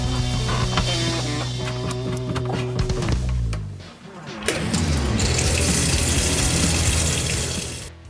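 Water from a newly replaced faucet in a trailer runs steadily and loudly into a sink, a continuous rushing stream with a brief shift in flow partway through.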